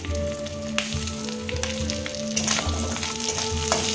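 Shrimp and fish bones fry in hot oil with green chillies: a loud, dense, continuous sizzle with crackles and pops, and a few stirring scrapes and clinks partway through.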